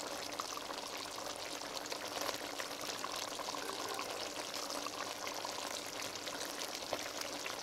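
Curry sauce being spooned over fish simmering in a pot for a Jamaican rundown, giving a steady close bubbling and liquid pouring sound with no talk.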